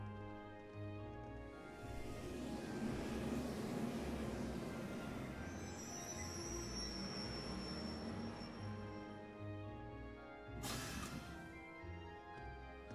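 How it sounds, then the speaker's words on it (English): A train pulling into a station platform in the video game Trails of Cold Steel, a quiet steady rumble of rolling wheels with faint hiss, rising then easing, and a short burst of brakes or air release near the end. "Passenger service bound for Celdic Bearhard now arriving on platform 2."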